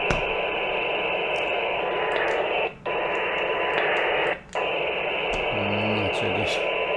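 A radio receiver picking up two frequencies at once: a continuous band of loud hissing static with a faint steady tone, briefly cut twice, and a short burst of warbling interference near the end.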